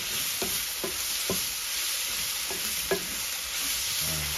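Onions frying and caramelizing in a pan give a steady soft sizzle, with several light stirring scrapes spaced out over it, close and fairly quiet.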